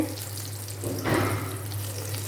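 Water running from a tap at home for bathing, a steady rushing stream that grows fuller partway through, over a low background hum.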